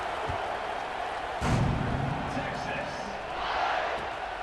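Stadium crowd noise in the video game College Football 26, a steady, distant roar with a brief louder swell, underneath a commentator talking.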